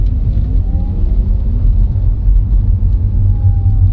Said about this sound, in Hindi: इसमें एक्चुअल स्पीकर से आवाज बजती है जब इस गाड़ी को एक्सेलरेट करते हो।